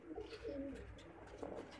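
A pigeon coos softly nearby in a short, faint phrase of low, throaty notes, with no one talking over it.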